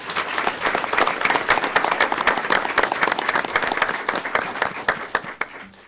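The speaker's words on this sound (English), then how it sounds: "Okay, a round of applause," Sustained applause from attendees at a county commissioners meeting honoring employees, many hands clapping in a brisk, crisp patter that holds steady for several seconds before tapering off.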